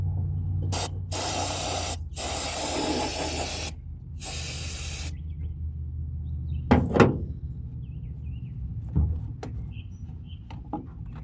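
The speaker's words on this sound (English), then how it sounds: "I bought some carb and choke cleaner. Just gonna spray some of that." Several long bursts of aerosol carb and choke cleaner hiss loudly up close onto an Echo ES-210 leaf blower, separated by short pauses, followed by a few clunks and handling noises.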